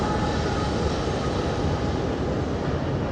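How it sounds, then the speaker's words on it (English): A train passes behind the listener on a hillside among pine trees, a dense, steady roar with no distinct clacks and no one speaking. "there's a train going by behind me"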